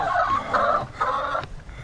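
Noisy backyard hens cluck loudly and continuously in a coop while being fed and checked for eggs, with bursts of busy squawking chatter close by.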